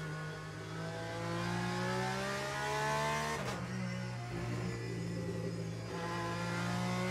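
A Porsche race car engine in the racing game Le Mans Ultimate, a steady droning whine that climbs in pitch through the gears, with a brief burst midway before it settles back into a sustained rising tone.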